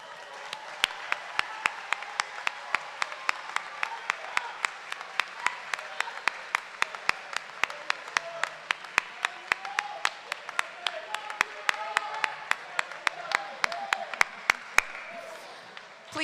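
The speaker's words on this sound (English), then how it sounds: "I ask that you please turn and applaud all those who supported you in the pursuit of" Graduation ceremony audience applauding those who supported the graduates, a long sustained crowd clapping in a large hall, steady and even, with one loud nearby clapper keeping a regular beat over the wash.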